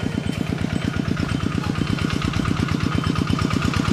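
A tractor engine running in the rice fields around Dong Hua Kham village, Xaiphouthong, Savannakhet, Laos, chugging in a rapid, regular pulsing rhythm, close and fairly loud throughout.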